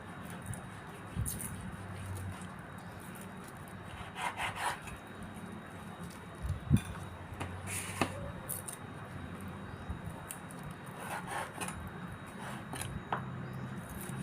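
Steady back-and-forth knife slicing through pork on a wooden board, a rasping, sawing scrape that repeats through the clip, close and moderately loud, with no talking.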